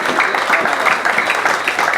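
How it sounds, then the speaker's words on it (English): An audience applauds its chairman at an over-50s cricket award ceremony in the Caribbean. The clapping is loud, dense and steady for about two seconds, with no voices over it. "big round of applause to our chairman"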